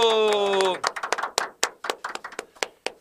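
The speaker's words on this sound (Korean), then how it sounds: "자 박수" Sparse clapping from a small studio audience welcoming a guest on a Korean talk show, following a brief spoken phrase, with irregular claps that trail off into separate strikes.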